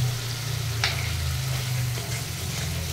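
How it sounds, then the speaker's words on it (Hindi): Masala frying in oil while being stirred, a steady close sizzle with a low hum beneath and a couple of brief scraping strokes of a spoon. "इसको तब तक चलाऊंगी जब तक इसमें से तेल सेपरेट ना हो जाए"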